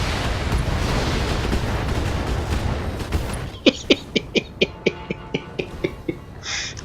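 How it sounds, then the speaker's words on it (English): Mech weapons fire in Battletech striking enemy mechs: a dense rumbling barrage of explosions, then a rapid run of about a dozen sharp, evenly spaced impact shots that fade into a final whoosh. "I just love watching all that fire go into the mechs"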